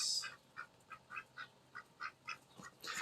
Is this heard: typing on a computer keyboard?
no